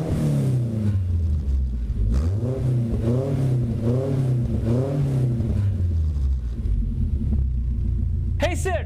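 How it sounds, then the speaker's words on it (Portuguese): A VW Gol GT on its original exhaust muffler revs repeatedly, the engine climbing and falling in loud, close rises over a steady idle rumble, with a brief higher sound at the very end. "agora aí que vocês ouviram o barulho original do golzinho, mestre Rogério Dudu."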